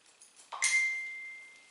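A mobile phone gives a short notification chime in a quiet hair salon, one bright ping that rings out and fades slowly.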